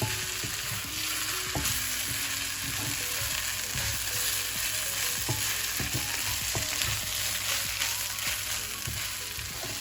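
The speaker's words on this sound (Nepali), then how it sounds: "अब म यसमा चिउरा राख्दैछु। एकैचोटि राम्रोसँगले चलाइहाल्नुपर्छ चिउरालाई।" Flattened rice (chiura) sizzles steadily in a hot pan with potatoes and onions for pilau, a continuous loud frying hiss broken by frequent close scrapes and knocks of a spoon stirring throughout.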